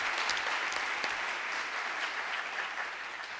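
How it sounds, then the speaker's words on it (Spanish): An audience at a university lecture on war and peace under capitalism gives a steady, full round of applause for the lecturer, sustained and fairly close for several seconds with no talk. "pido un aplauso inicial para él también"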